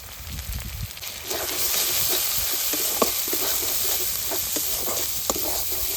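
Green chili paste with turmeric and Kashmiri chili powder sizzles and fries in hot oil while being stirred, a steady close crackling hiss broken by a few sharp spatter pops, with no talk.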